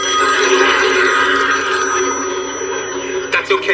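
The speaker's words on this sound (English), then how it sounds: "I just figured if I opened my mouth that the phone would start ringing" A telephone rings steadily through a scene in the sitcom The Golden Girls, a bright continuous ring mixed with room noise and voices.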